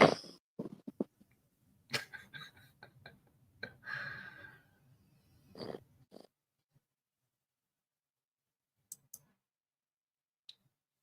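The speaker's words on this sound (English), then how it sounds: "Listen to the little guy snore." A little one snores in irregular snorting and rasping bursts over the first several seconds, close and fairly loud, followed by near silence broken by a few sharp clicks.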